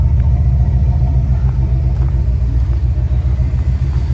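A 1972 Buick Skylark engine idles steadily while warming up, a continuous low rumble that holds even and loud throughout with no revving and no voices.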